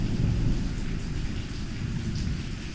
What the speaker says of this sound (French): J'avais jamais pris la grêle en moto.